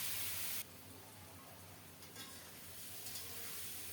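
Marinated bata fish dropped into hot mustard oil with browned onion tempering, giving a steady close hiss of frying that swells after the first moment and holds evenly throughout.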